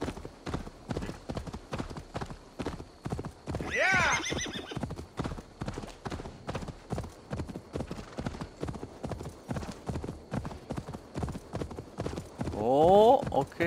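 Horse hooves clop in a rapid galloping rhythm in the video game Assassin's Creed Valhalla, with two loud whinnies breaking through, while a person talks over the action throughout.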